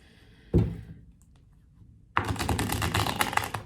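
Tarot cards are handled and shuffled close up: a single sharp slap early on, a quiet pause, then a dense run of rapid riffling clicks to the end.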